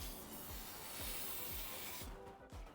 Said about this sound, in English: I think I'll do one more spray around the edge now, because we only sprayed the outside part.